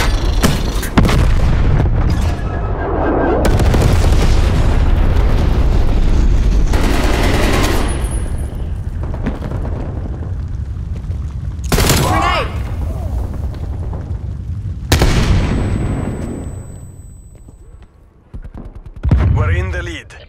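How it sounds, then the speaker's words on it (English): Napalm strike explosions in Call of Duty Black Ops Cold War multiplayer: loud booming blasts and rolling bursts of gunfire, with several sharp broadband explosions standing out over a dense battle din. "Napalm strike incoming."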